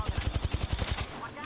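Rapid automatic gunfire in a video game, with about ten evenly spaced shots that stop abruptly, followed by a quieter tail.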